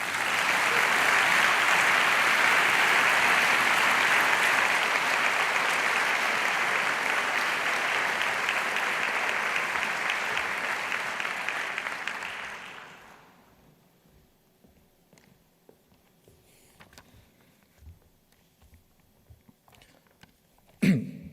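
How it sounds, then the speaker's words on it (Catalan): Loud, sustained audience applause at a literary awards ceremony in Girona, welcoming Esteve Vilanova to the stage; steady dense clapping for about twelve seconds, then fading to near silence with faint rustles and a brief bump at the end. "Rebem-lo amb un fort aplaudiment."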